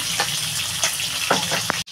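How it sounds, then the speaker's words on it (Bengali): Bhetki fish fries in hot oil, a close, even sizzle broken by a few soft pops and clinks before a brief dropout near the end. "এদিকে মাছটাও আমার প্রায় ভাজা হয়ে গেছে"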